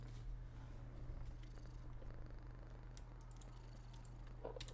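A pet cat purrs close by in a low, steady rumble that continues throughout, with a few faint clicks and taps in the background.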